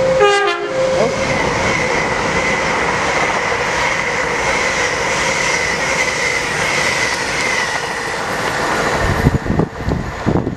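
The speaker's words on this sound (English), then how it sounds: "You'll see two trains in this video" A train rumbles steadily past close by at night at Chester-le-Street, its horn sounding at the start, with rolling wheel noise and clatter throughout.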